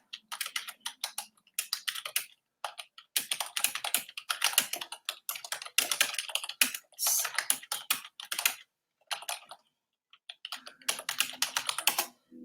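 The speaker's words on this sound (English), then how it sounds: "We'll put up with some typing ASMR." Rapid clacking of computer keys in uneven bursts with brief pauses, close and clear, no talking.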